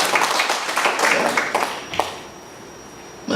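Crowd applause of moderate loudness in a church service, thinning out and fading after a couple of seconds, leaving a quiet room tone.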